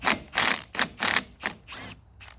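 A ratchet with a 14mm socket turning the flywheel nut on a bike engine, heard as a close, loud series of about six rapid clicking bursts, slowing and softening toward the end.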